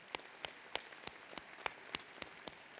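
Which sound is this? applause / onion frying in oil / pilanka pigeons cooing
applause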